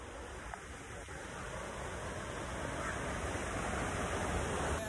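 Cachoeira do Treze waterfall near Petrópolis gives a steady, broad rushing roar of falling water that holds evenly throughout and grows slightly louder toward the end, with no talking.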